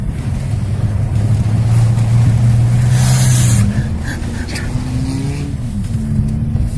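Beater cars race through a muddy field with loud, continuous engine roar, revs climbing and shifting, up close and without talk.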